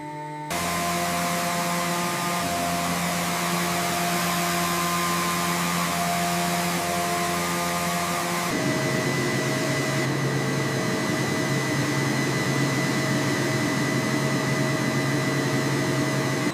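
A factory machine cutting camel wool gives off a loud, steady whirring drone with tonal hum, shifting to a broader, noisier roar midway and running continuously without any talking.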